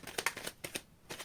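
Tarot cards riffled in a final shuffle during a card reading, a few short crisp bursts of papery flutter, close and fairly quiet, with brief pauses between them.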